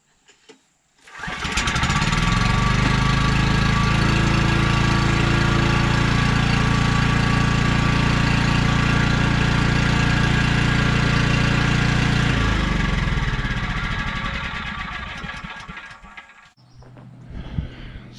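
A small engine on a homestead sputters to life after a short pull and then runs steadily and loudly for about ten seconds before winding down and cutting off, with faint noise afterward.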